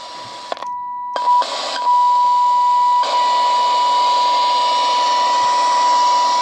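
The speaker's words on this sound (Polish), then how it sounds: "Oczywiście słyszymy sygnał z generatora." A steady pure tone from a signal generator sounds through a UNITREX SKAND 1 R628 radio receiver during tuning checks, briefly dropping out and returning over a loud hiss of static that rises and shifts as the dial moves.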